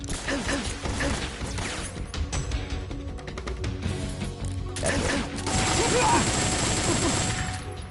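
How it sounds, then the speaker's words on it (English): Bursts of gunfire aimed at the player in the stealth game Metal Gear Solid 3: Snake Eater, with sharp mechanical cracks and clattering impacts mixed with game noise, loud and close throughout. "Who the hell is shooting at me?"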